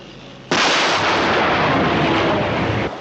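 A weapon fires at a control vehicle in a dusty crater, a sudden loud blast followed by a long, sustained roaring rumble that holds for over two seconds.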